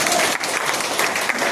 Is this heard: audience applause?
yes